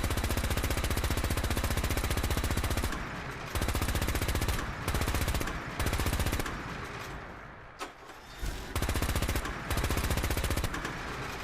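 Gatling laser in Fallout 4 fires in long rapid bursts, a dense loud rattling stream that breaks off briefly several times before resuming, with no talk over it.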